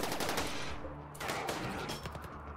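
Rapid gunfire in RimWorld as colonists shoot at a hostile centipede mechanoid, dense bursts of shots running through most of the clip with a short lull in the middle, loud and close.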